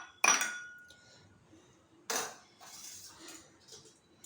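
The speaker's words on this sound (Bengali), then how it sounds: "এবারে এই দইটা আমি ঢেলে নেবো এই বাটিতে।" Curd being poured into a bowl for homemade misti doi, heard as two sharp clinks of utensils against the bowl, followed by softer scraping and clattering, close and fairly quiet, with no talking.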